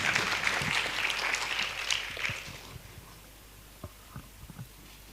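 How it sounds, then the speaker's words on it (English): Audience applause for a speaker at an international seminar on gender in international relations: dense, steady clapping for about two and a half seconds, then thinning to a few scattered, fainter claps. "Please give a big round of applause for Mr."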